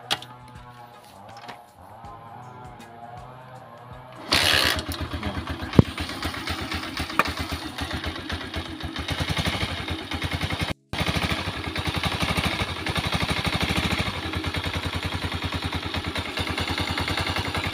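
A Honda TMX Alpha motorcycle engine cranks and catches, then idles loudly with a steady, rapid putter, briefly cutting out once before running on.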